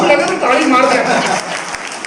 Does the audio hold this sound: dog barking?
no